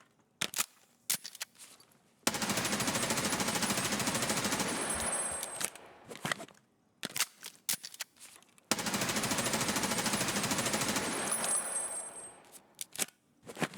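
Rapid automatic weapon fire in Escape from Tarkov on the Shoreline map, two long sustained bursts separated by scattered single shots and clicks, loud and close.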